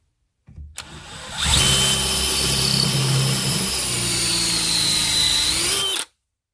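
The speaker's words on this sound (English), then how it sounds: "you want to have a fast enough drill and a strong enough drill to be able to slowly move right in there once this copper tube heats up" An electric drill spins up from a few short bursts into a loud, sustained high whine as it swages a copper tube, holding steady for several seconds before stopping abruptly.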